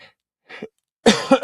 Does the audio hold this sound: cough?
yes